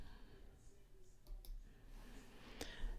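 A computer mouse clicks a few times while working in Photoshop, small sharp isolated taps over a quiet room hum.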